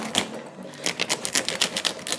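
A serrated bread knife saws through a crayfish shell lengthwise down the tail, giving a series of sharp, rhythmic crunching rasps close to the microphone, with no talking.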